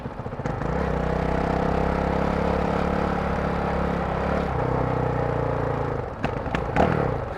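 A motorcycle engine fires up on its electric starter and settles into a loud, steady idle running close by throughout, with a few sharp knocks and clatters near the end.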